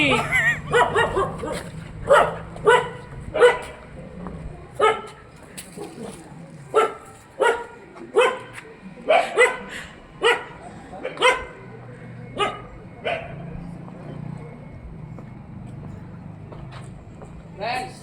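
Three dogs bark close by in a series of sharp, irregular bursts that come fast at first, then thin out and grow quieter toward the end.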